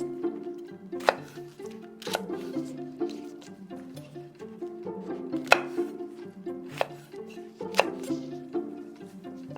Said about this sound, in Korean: 꽈리고추도 먹기 좋은 크기로 잘라줍니다.